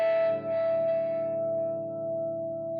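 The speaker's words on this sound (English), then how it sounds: "I stop playing and I'm getting other notes sympathetically vibrating because I'm hitting the strings" An electric guitar with heavy distortion rings with sympathetically vibrating strings after finger tapping, a sustained, buzzy chord that hangs steady and slowly fades on its own.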